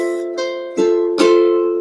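Four strummed ukulele chords ring out one after another, each bright and sustained, played close with no voice.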